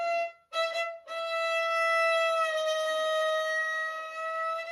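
Slow violin tone held on a single bow, with one gentle upward and one downward pitch bend from a vibrato motion, played alone and close after a brief opening note.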